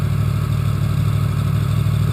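A Yamaha FZ-10/MT-10 motorcycle fitted with an SP Engineering exhaust and a cat delete idles close by, a loud and steady low engine thrum with an even pulse and no talking.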